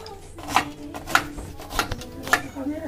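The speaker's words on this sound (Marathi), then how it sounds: "कांदा चिरणार एक कांदा" An onion chopped by hand with a knife, four distinct, evenly spaced knife strikes landing roughly every half second, quiet and close, with a person talking underneath.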